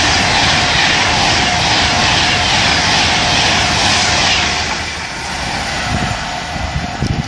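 A Virgin Trains Pendolino passes at speed on the West Coast Main Line at Acton Bridge, a loud sustained roaring rush that eases slightly toward the end with some rattling near the close.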